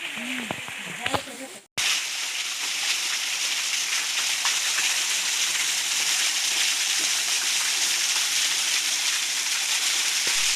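A waterfall roaring in a constant broad rush after brief voices and a short cut near the start.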